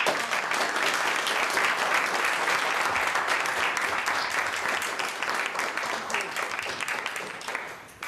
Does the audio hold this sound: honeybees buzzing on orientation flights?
no